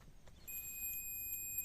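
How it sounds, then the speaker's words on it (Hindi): A clamp meter set to continuity beep mode gives a thin, faint steady electronic tone that starts partway in and holds continuously against a quiet background, with no speech. "क्लैंप मीटर को जो है यहाँ पर बीप मोड पे सिलेक्ट कर देना है।"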